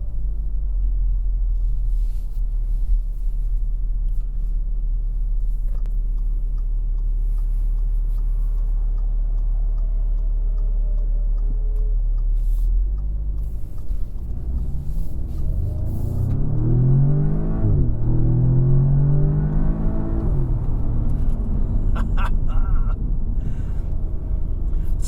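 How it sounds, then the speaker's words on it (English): Steady low engine drone inside a 2016 Audi S3 on the road with the fan on low, rising into a louder acceleration with climbing engine tones partway through, continuous and close with no talking. "You're gonna hear nothing but the car."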